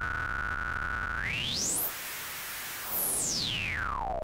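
A broad hiss of white noise from a Joranalogue Delay 1 synthesizer module, with a whistling tone sweeping upward to a high pitch, then gliding back down; steady and loud throughout.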